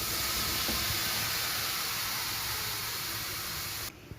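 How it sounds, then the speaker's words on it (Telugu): Chopped tomatoes sizzle in a hot kadai, a steady loud hiss and crackle that runs unbroken and then cuts off abruptly near the end. "ఇప్పుడు ఒక కడాయి పెట్టుకుని కట్ చేసుకున్న టమోటాలను వేసుకోవాలి."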